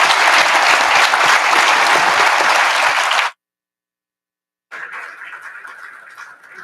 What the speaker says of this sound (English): So join me in a big applause to all of them.